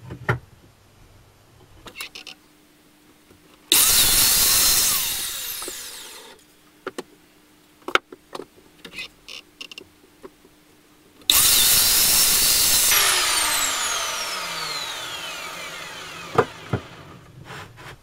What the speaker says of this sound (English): these two I'll actually cut on the chop saw rather than cutting by hand